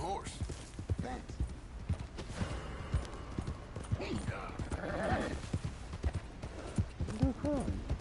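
Horse hooves clip-clopping in Red Dead Redemption 2, a steady close rhythmic trot of hoofbeats running through the whole stretch, with a whinny-like tone and people talking over the gait.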